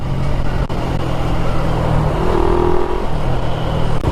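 Steady, close engine drone from a Suzuki Raider 150 Fi motorcycle running at a constant pace, loud and continuous with no talking.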